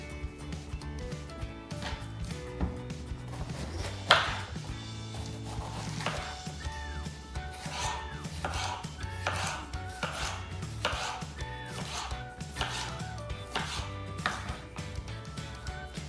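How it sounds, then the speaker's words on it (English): A knife slicing peppers and onion on a chopping board, with a steady run of rapid cuts heard close up under continuous background music. "I'm going to slice the peppers and onion and crush the garlic."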